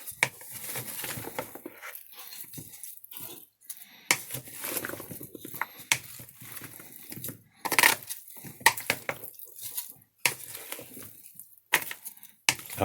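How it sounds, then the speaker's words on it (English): A big spoon stirs cooled potatoes and onion for potato salad in a bowl, making irregular wet scraping and clacking strokes that come close and fairly loud, with brief pauses between bursts. "with this big spoon, we're going to mix it up"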